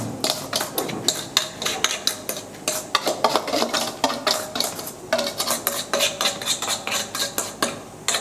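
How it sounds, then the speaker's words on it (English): Sugar and butter mixed by hand in a bowl for a Nigerian-style cake, with rapid, irregular squelching and scraping strokes repeating close up, no talk. "we are going to use our hand to mix it"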